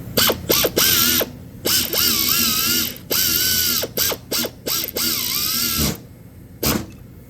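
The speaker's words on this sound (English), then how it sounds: "Go ahead and tighten that one up first." Ratchet or power tool tightening a ground wire bolt on a 2021 Subaru Impreza AWD during CVT transmission solenoid work, in repeated whirring bursts with rising pitch and short pauses, close and loud.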